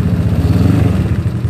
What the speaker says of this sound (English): I'm gonna go and tug the throttle cable.